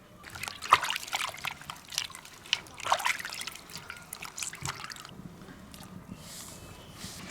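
Beef tongue washed under running water: splashy trickling and sloshing close by, with irregular surges as the meat is turned and rubbed, then a quieter stretch toward the end.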